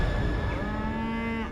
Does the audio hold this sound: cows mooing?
yes